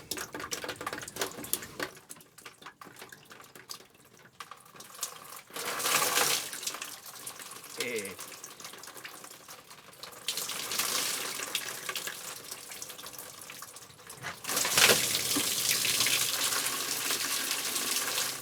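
Water pours and splashes from a leaking roof air conditioner on a 2006 Fleetwood RV, running in several surging bursts over a steady trickle, close and fairly loud with no speech.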